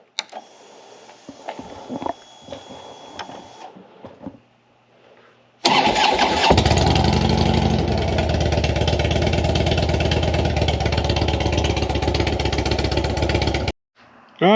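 A motorcycle engine, with a suspected bad neutral safety switch and a newly installed Thundermax ECU, cranks and catches, then settles into a loud, steady rumbling idle close by for several seconds, after some quiet handling noises and brief low talk.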